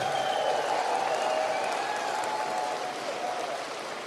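A political rally crowd in Sault Ste. Marie, Ontario, applauding veterans, with sustained dense clapping and scattered cheers that slowly fade, heard from a distance.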